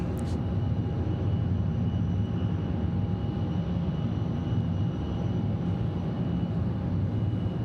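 An MD-11 jet bound for Louisville, at Atlanta Hartsfield-Jackson airport, gives a steady, heavy engine roar with a faint whining tone, holding a constant level throughout with no voices over it.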